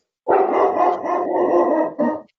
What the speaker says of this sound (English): Dog agrees.